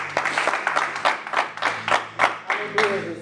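A church congregation claps for Jesus during a sermon, a run of sharp, uneven claps building into loose applause close by, with voices murmuring underneath.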